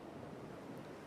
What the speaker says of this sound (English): the ocean moves in slow, rhythmic waves